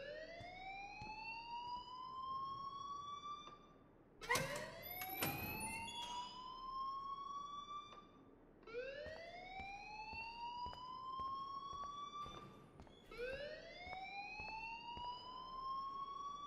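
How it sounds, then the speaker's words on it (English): A school fire alarm in the video game Life Is Strange wails as a rising whooping siren, repeating roughly every four seconds. It is clear and steady, with a short burst of clatter between cycles and no talk. "please turn off that alarm since that's your job"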